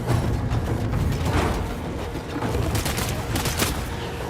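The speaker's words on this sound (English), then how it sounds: "Oh, he has a machine gun turret up there." A machine gun turret fires in the video game Death Stranding 2, a steady, loud stream of rapid gunfire with rattling bursts throughout.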